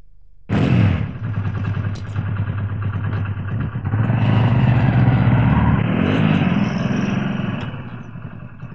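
A motorcycle engine kicks to life, runs with a rough idle and clattering, then revs louder and steadier as the bike rides off, close by with no voices.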